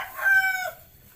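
A rooster crows once, a short, bright call, close and clear over faint background noise.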